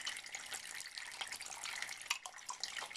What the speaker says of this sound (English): we have a submersible water pump. The water from the pump comes up into the vertical holding tank